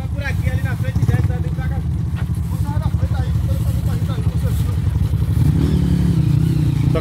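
A motorcycle on an adventure trail ride near a river, its engine running steadily up close with a rough, pulsing drone and some clatter, while riders talk and shout over it.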